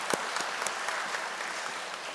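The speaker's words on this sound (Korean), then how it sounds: "우리 그레이트 아젤리아 찬양팀에게 다시 한번 감사의 박수를 보내주시기 바랍니다." Audience applause at a peace blessing ceremony, a dense, steady patter of many hands clapping at moderate distance with no talk.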